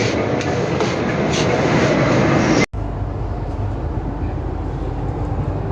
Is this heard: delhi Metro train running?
yes